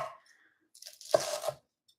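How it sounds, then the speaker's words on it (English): A knife chops through lettuce on a cutting board in a couple of quick crisp crunches close by, with short silent gaps around them and no talk. "I'm going to chop that lettuce just one more time."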